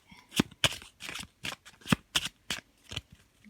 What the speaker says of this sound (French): je reprends mon jeu, je le bats